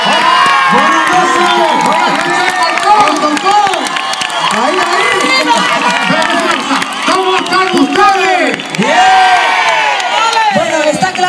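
A crowd at a performance in Alcorcón cheers, whoops and applauds loudly and continuously, with shouting voices rising over the clapping throughout.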